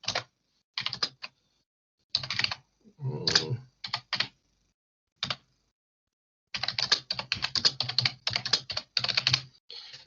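Bursts of quick typing on a computer keyboard, close and crisp, with several pauses between flurries and a long continuous run of keystrokes near the end.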